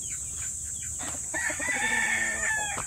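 A rooster crows loudly and near at a gamefowl farm, one long harmonic call rising over soft clucking and other fowl in the background.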